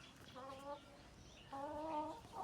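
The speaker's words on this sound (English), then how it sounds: "Like now here, the chicken." A chicken in Uganda clucks twice in two short bursts, near but fairly quiet, over a soft outdoor background with no talk.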